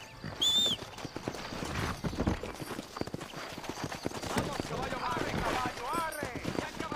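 Horse hooves clip-clop at a steady gallop in the Red Dead Redemption game on Xbox One, near and continuous throughout, with a brief whinny early on and game sounds around.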